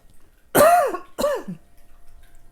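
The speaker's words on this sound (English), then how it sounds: "I got a cough." Two hoarse, throaty coughs, close and fairly loud, about half a second apart, followed by quiet.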